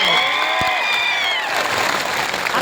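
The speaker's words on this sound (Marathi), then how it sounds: "त्या माणसासाठी एक टाळ्या सगळ्यांसाठी" Applause from a protest rally crowd in Beed, steady clapping filling the space for a couple of seconds, with a brief voice at the start.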